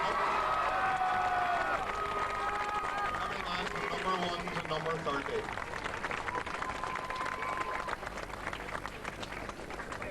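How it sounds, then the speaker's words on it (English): Homecoming crowd at an outdoor GAA celebration applauding and cheering the Ardara county champions, dense clapping and whoops running throughout while someone speaks over the noise. "I want you to give the boys behind me a big round of applause"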